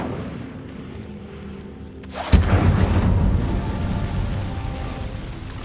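An Incendio fire spell blast in Hogwarts Legacy. It goes off suddenly as one loud burst about two seconds in and is followed by a sustained roaring rumble over low game ambience.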